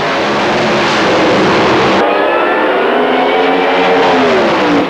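A 1953 Studebaker drag car roars loudly through a qualifying run, its engine note holding steady and rising in pitch as it pulls away, continuous and close for the whole stretch.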